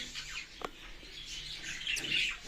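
A few short, thin chirps and tweets come from birds in a breeding colony setup, heard close but fairly soft over light background noise, with no talking.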